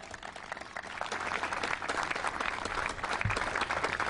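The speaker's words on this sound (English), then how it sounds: "it's okay to applaud for that." Audience applause fills a bill signing for clean energy legislation in Illinois, steady dense clapping sustained throughout at a moderate distance with no voices over it.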